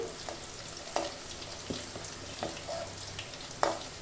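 Green chillies and onions fry in a hot pan with a steady, close sizzle. A few sharp spoon scrapes and clinks break through now and then, and no one speaks.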